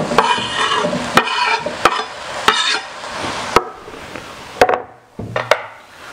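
Tomatoes tossed into a hot pan with softened leeks and caraway seeds, bursts of sizzling cut by sharp knocks of a spoon against the pan as it is stirred, fading toward the end.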